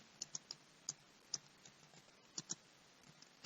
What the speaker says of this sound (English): So you can as well start typing your information there.